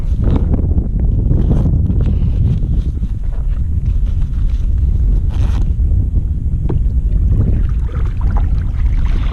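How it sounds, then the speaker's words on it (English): Strong wind buffets the microphone on a lake during a kayak bass fishing tournament, a loud continuous low rumble with gusty surges and no voices. "Still windy."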